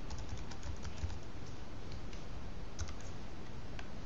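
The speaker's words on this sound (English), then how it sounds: "so I can type employment here." Rapid, steady typing on a computer keyboard, dense clicking keystrokes running continuously and close up, with no voices.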